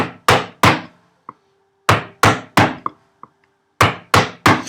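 A mallet strikes a freshly sharpened chisel, chopping housing dados in wood for a workbench, giving loud close sharp blows in uneven groups of two or three, with small taps between.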